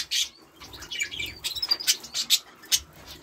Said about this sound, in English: there's another couple there of budgies